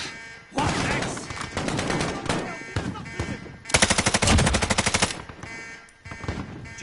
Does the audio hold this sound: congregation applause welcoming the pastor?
no